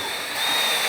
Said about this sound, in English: And then I'm going to drill the other side.